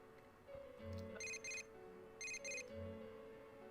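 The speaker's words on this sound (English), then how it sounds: "Oh, I'm getting more phone calls." Phone ringing in the game Persona 4 Golden: two pairs of short electronic ring bursts over a steady synth music bed, fairly quiet and clean.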